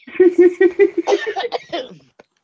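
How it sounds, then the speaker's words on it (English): A rapid series of about ten coughs mixed with laughter, close and loud, starting as rhythmic pulses and trailing off into breathy chuckles. "Made me laugh so hard I started to cough."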